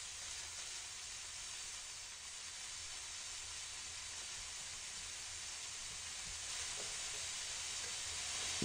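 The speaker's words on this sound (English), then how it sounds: "we need to cook the mice" Steady loud steam hiss with a broad sizzling wash runs unbroken as mice are cooked in the video game burg, brightening slightly near the end, with no voices.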